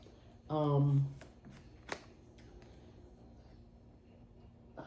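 A deck of tarot cards shuffled briefly up close, a quick riffling burst followed by a few light card taps and handling sounds, with a voice heard nearby.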